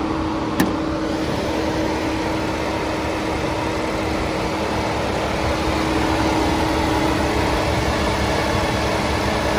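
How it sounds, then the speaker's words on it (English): A BMW X7 with a B58 inline-six engine idles smoothly, making a steady, even hum with a faint tonal whine and a single small click near the start. "the B58 inline six, buttery smooth, very little vibration, everything's running just fine"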